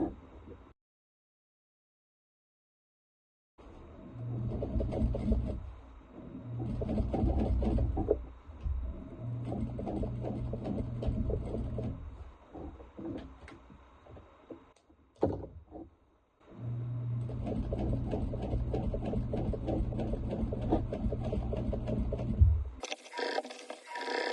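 A sewing machine stitches a quarter-inch seam up the sides of a fabric piece at a 3.5 stitch length, running in steady mechanical bursts broken by short pauses and a near-silent stretch, close and moderately quiet.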